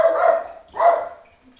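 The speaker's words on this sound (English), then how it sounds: "and that's my dog." Two short, close dog barks, the second after a brief pause, loud and alone without any talk.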